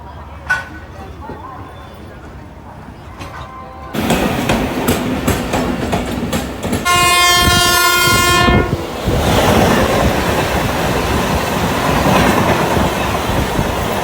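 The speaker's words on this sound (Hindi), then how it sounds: "चलिए आपको दिखाते हैं कुछ समय में यहाँ से ट्रेन डिपार्चर।" The Mussoorie Express, running Dehradun to Delhi, departs a station. Loud rumbling and rhythmic clanking rise, and a long, loud horn blast sounds partway through, with station noise and people talking around it.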